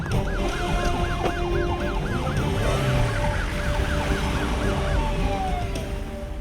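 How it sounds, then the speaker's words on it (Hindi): A wailing emergency siren on a car racing to the airport, loud and close with a rapid rising-and-falling yelp that slows into a long wail, over road and engine noise. "सर की गाड़ी में सायरन लगाया और शक्तिमान की तरह गया है"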